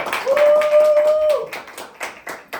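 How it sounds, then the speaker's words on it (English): Sparse audience clapping for a speaker at an FIU honors event: a few scattered hand claps and taps that grow more separate toward the end, with a tonal sound and some voice over the first half. "Round of applause. Round of applause."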